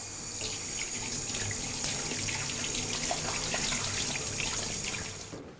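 Carrots are rinsed under a running kitchen tap, a steady close rush of water into the sink that continues evenly for several seconds before cutting off, with no talking.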